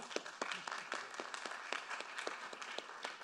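An audience applauds at a talk on Venetian carnivals, a short stretch of fairly faint, evenly paced clapping.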